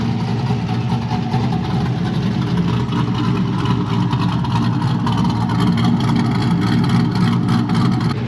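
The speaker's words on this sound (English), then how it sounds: "I mentioned the exhaust, because it's stupid loud, I hate it." Loud, steady exhaust rumble from a Chevrolet Corvette C6 fitted with an aggressive cam and performance tune, droning continuously near the listener for the whole stretch with a faint lumpy pulse and no talking.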